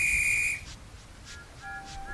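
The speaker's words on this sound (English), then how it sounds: "they always whistled when they passed the little cottage" A steam engine whistle for Thomas the Tank Engine, a sharp high blast followed by fainter, shorter whistle tones further off, with no talking.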